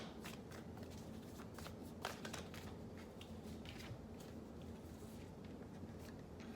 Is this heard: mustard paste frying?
no